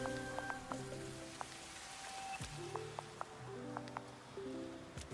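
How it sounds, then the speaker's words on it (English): Acid rain in the puzzle video game Lumines Arise: a soft, steady patter of rain mixed with melodic game music tones and occasional chime-like blips, no talking. "This is acid rain."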